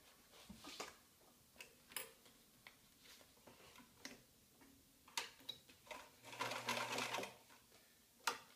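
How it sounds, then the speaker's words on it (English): A sewing machine stitches a strap onto a DIY rolltop backpack, making faint, uneven ticking bursts and clicks with pauses in between, close by and quiet. "Now I'll sew this on either side"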